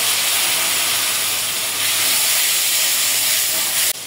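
Turmeric, salt and a splash of water hit hot oil in a pan for Barisal-style hilsa jhal, giving a loud, steady, close sizzle with a burst of hissing steam that runs the whole time and cuts off near the end.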